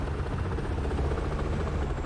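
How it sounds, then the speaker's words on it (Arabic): A helicopter flies close behind the player in the video game Arma 3, a steady loud rotor thrum with a rhythmic low-frequency chop and a constant buzzing drone, with no speech. "كون طيارة ورانا"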